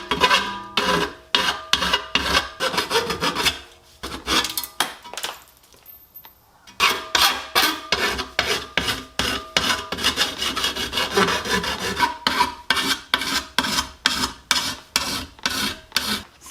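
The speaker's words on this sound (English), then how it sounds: "Obviously I need some filing." Metal parts of a Kawasaki KZ400 motorcycle's steering head are filed by hand in brisk rhythmic rasping strokes, loud and close, with a brief pause midway before the strokes resume.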